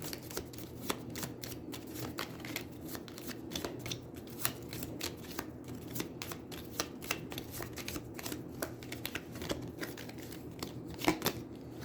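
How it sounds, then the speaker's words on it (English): A deck of cards for the Aeons End board game is shuffled close up, giving a continuous run of quick riffling flutters with brief sharper snaps and no talking. "Now I shuffle and draw again."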